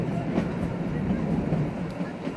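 The Shimla toy train rolls on through pine and deodar forest in a continuous near rumble of wheels on rails, with soft periodic clacks rising slightly over the steady din.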